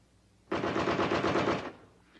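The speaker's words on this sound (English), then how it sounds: "The M60 is the standard machine gun for the U.S. Army." An M60 machine gun fires one continuous burst of rapid, evenly spaced shots lasting about a second, fairly loud against a quiet background.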